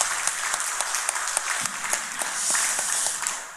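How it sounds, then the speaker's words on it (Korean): A church congregation claps for about three and a half seconds at a Sunday worship service marking the church's 59th anniversary. Many hands make a steady, fairly dense patter that swells slightly toward the end, with no voices over it. "우리 그런 의미로 하나님 앞에 모든 영광의 박수 한번 올려드렸으면 좋겠어요"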